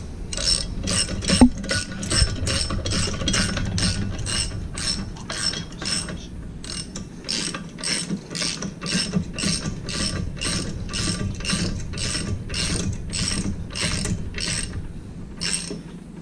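Ratchet wrench with a half-inch drive socket snugging a nylock nut on a Mercury 115hp Command Thrust outboard, rapid close pawl clicks in an even rhythm of back-and-forth strokes, loud and continuous with no talking.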